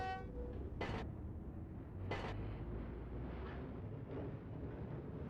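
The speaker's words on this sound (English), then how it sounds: "the sound of the tram getting the speed" Model 710 tram on Hakodate Route 5 in the Densha de Go! video game building speed, a steady low rumble with two short bright horn-like bursts early on, close and continuous with no talking.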